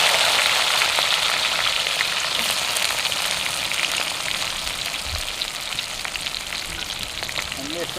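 Onions with green chillies frying in a pan for spinach chicken curry, giving a steady crackling sizzle with soft stirring scrapes and no voices.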